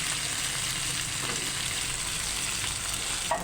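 Chopped fried chicken tipped into a pan of lightly browned aromatics for a sliced chicken estofado, giving a steady, fairly loud broadband sizzle that holds evenly throughout, with a small clatter near the end and no talking.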